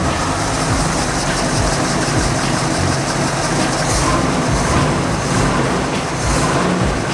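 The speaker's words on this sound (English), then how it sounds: "This is the first start after the carb rebuild." Engine with a freshly rebuilt Quadrajet carburetor runs loudly and steadily at close range, a dense, constant rumble with no clear break across the whole stretch.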